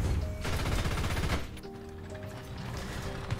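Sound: gunfire from a German tank in a video game

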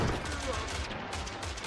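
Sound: cannons firing in video game Totally Accurate Battle Simulator

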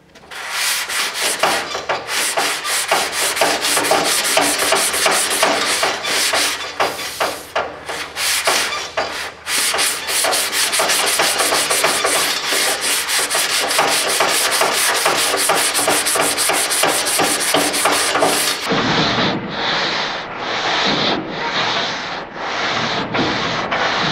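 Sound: sanding 1970 Camaro SS fenders and nose pieces

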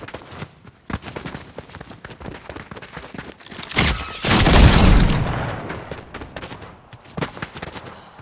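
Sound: shotgun firing in Fortnite video game

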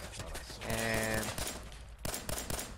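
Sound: gunfire in the video game Fallout 4

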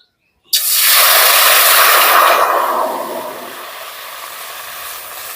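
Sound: water being poured into a hot kadai

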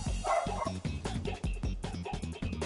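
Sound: dog barking

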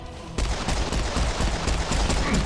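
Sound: gun firing in Serious Sam 4 video game

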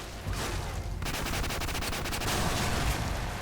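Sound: gunfire and RPG fire in Call of Duty 4 video game

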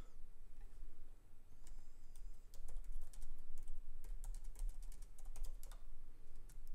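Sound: typing a prompt on a computer keyboard

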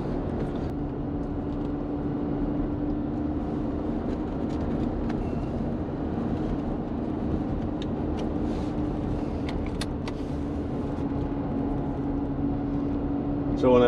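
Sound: Mercedes-Benz R129 SL car driving, engine revving

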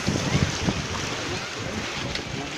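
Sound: rough sea waves around a floating cottage

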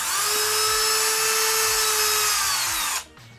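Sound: Dremel rotary tool running

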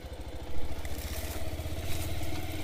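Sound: motorcycle engine on a rough road

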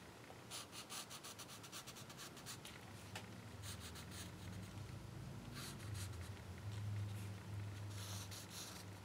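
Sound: drawing with a black Stabilo pencil

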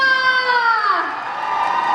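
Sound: audience screaming and cheering at a cover dance contest

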